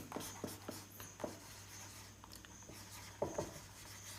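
Chalk or marker strokes on a board during a physics lesson, a few scattered scratches early on and then a brief cluster of sharp taps and scrapes near the end, close by with no voice.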